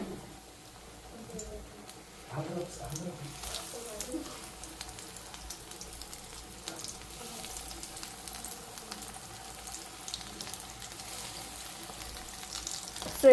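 Jowar-oats potato nuggets frying in hot oil in a pan over low heat. A steady, crackling sizzle continues throughout, with a few brief handling sounds early on.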